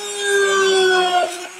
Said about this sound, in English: Now I'm just drilling holes